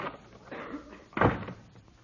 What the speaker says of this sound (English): The door closed.